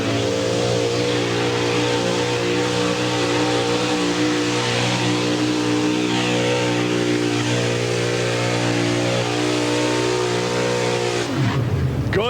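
A pulling tractor's engine roars at full throttle during a 1990 NTPA tractor pull run on clay at Pocono, Pennsylvania, a loud, sustained, harmonic-rich drone that holds steady before dropping off sharply at the end.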